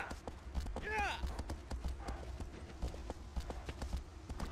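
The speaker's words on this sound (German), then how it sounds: "Einfach mit dem Pferd drüber reiten." A horse gallops in the video game Shadow of the Colossus, its hooves beating a steady, rapid clip-clop under a low rumble of game ambience, with a brief whinny-like sweep near the start.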